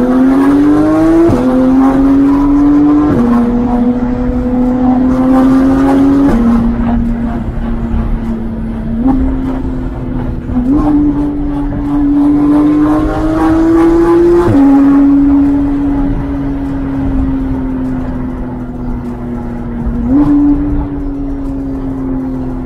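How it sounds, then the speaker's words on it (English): A Porsche GT3 engine drones loudly from close by, its pitch stepping up and dropping through gear changes for a sustained run, with no talking. "This GT3 is so much louder than mine."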